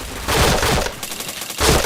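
Rapid bursts of automatic gunfire from the PointBlank shooting game, loud and dense, with two clustered volleys separated by a brief lull and no talking.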